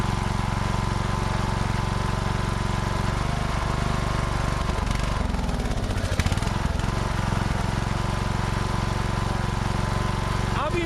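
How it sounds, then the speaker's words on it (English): Lawn mower engine running steadily at half throttle, nearly on choke, with a constant loud drone and rattle close by; a brief uneven stutter midway, then the even hum resumes. "I will turn the throttle down halfway where it recommends you to keep it when you're mowing"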